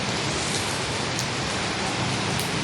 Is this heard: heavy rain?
yes